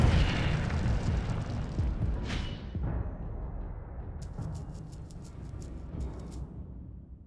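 An Incendio fire spell fired in Hogwarts Legacy lands as a loud, booming burst with a sweeping whoosh, followed by a fading rumble and a quick series of bright crackling ticks. No voices.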